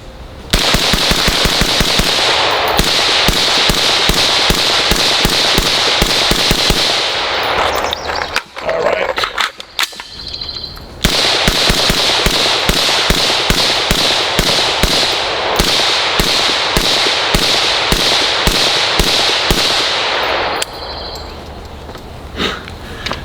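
A SIG MCX Spear LT rifle fires long rapid strings of loud, sharp shots outdoors, two sustained bursts of close cracks separated by a brief lull with a few scattered rattles.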